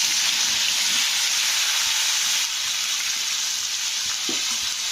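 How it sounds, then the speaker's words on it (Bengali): Raw jackfruit pieces frying in hot oil, the same oil just used for potatoes, giving a steady, dense sizzling hiss with a faint stir or clink near the end. "এবারে আমি ওই তেলেই এঁচোড়গুলো ভেজে নেব।"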